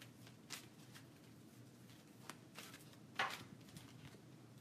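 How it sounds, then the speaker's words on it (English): Oracle cards being shuffled by hand, faint soft riffles and flicks coming in scattered bursts with one sharper snap, close and quiet, with no voices. "I do shuffle these cards"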